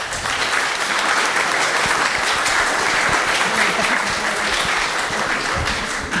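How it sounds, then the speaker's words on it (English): Steady audience applause at a fan convention animation panel, dense clapping at an even level throughout, fairly close and loud, with a few scattered cheers. "That was a slightly hesitant round of applause"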